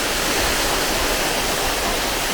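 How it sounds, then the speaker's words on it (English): A mountain waterfall in the Fagaras range roars as a dense, unbroken rush of falling water, loud and close, with no voices over it. "go a little closer so you can hear the beautiful sound that this waterfall is making"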